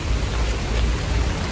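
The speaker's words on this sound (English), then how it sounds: "It's a nice cool rain." Light, cool rain falls steadily as an even, close hiss with a low rumble underneath, unbroken and with no voices.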